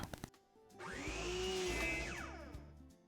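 A power saw making a miter cut through a 2x4 leg: a few short taps, then the motor whines up, bites through the wood for about two seconds, and winds down.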